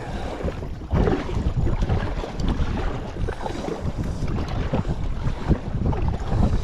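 Steady wind buffets the microphone on a drifting fishing boat on a lake, a constant rumbling roar with choppy water sounds underneath, close and loud throughout with no voices.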